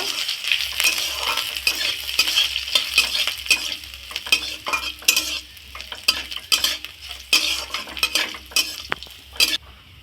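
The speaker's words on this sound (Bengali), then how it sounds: "দিয়ে দিচ্ছি আদার কুচি আর দিয়ে দিচ্ছি কাঁচা পাকা লঙ্কার কুচি ভালো করে ভেজে নেব" Chopped ginger and green chilies frying in a pan, a bright sizzle under busy, repeated stirring scrapes and clinks of a utensil against the metal.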